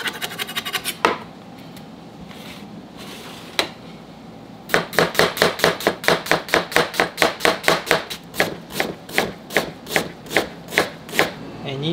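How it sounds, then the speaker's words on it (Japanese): Onion, carrot and ginger being chopped with a knife on a cutting board for chicken spice curry, a few scattered cuts and then a long run of quick, regular, crisp knife strikes, close and clear. "では材料をカットしていきます"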